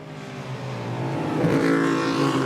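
Historic race cars at the Goodwood Revival, a noseless Scarab charging after the unique Tech Mech, roar past with rising engine notes, growing louder as they approach, no voices.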